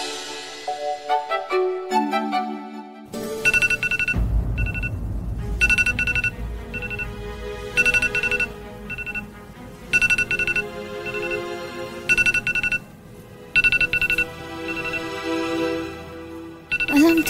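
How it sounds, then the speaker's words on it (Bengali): A doctor's mobile phone alarm rings indoors, a repeating electronic tune in short bursts separated by brief gaps, loud and clear with no talking over it. "ডাক্তার বাবুর মোবাইলে অ্যালার্ম বাজতেছে, তাতে তো ঘুম ভাঙে না"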